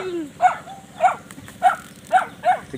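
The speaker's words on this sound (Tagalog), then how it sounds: "Sigarit niya mga aso na." Dogs bark in a steady run of five sharp barks, evenly spaced, at moderate distance over a low background rumble.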